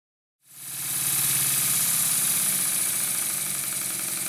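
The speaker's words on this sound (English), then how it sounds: "it was time to run it on compressed air just to make sure that nothing was too tight" After a moment of silence, a small Stuart model steam engine starts up running on compressed air, a continuous mechanical hum with a rapid, even chuffing beat and a high hiss.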